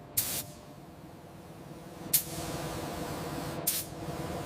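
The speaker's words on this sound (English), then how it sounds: "Spraying base primer to seal the bare metal surfaces." Base primer sprayed onto bare metal on a 20-year-old MaxxPro MRAP under restoration, three short, sharp hissing bursts from a spray gun spaced about two seconds apart over a steady low background hum.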